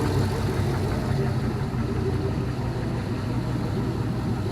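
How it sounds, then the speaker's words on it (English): An all-aluminum Gen 3 5.3L L33 LS engine idles steadily with a low, even rumble, close and continuous throughout with no throttle changes. "We're letting engines idle without throttle closed."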